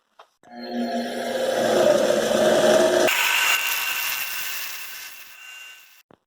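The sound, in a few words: grinder shaping a camshaft key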